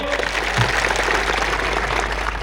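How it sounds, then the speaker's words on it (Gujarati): A crowd at an outdoor political rally claps continuously, a dense, loud wash of many hands over a low hum from the sound system. "આજે આ મંચ પરથી એમના માટે જોરદાર તાળીઓ પાડી લો."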